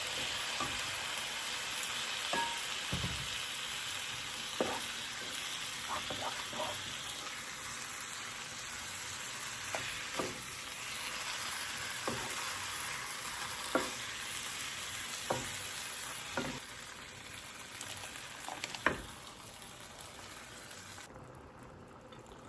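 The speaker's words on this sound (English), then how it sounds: "now I'm going to add my tomato mixture that I blended earlier" Blended tomato mixture sizzling and frying in a hot pot while making jollof rice, a steady bubbling hiss with occasional stirring clinks and scrapes, close and continuous with no talking.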